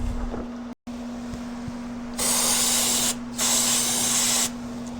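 Brake cleaner sprayed from an aerosol can onto a 2006 Polaris Hawkeye, two loud close hissing bursts of about a second each separated by a short gap, following a quieter stretch with faint clicks.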